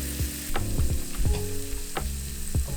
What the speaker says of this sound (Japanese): そしたらこの玉ねぎが茶色くなるまで炒めていきます。